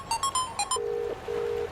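A phone rings out on an outgoing call: a few short electronic beeps, then two long steady ring tones with a pause between them, clear and fairly close, with no talking.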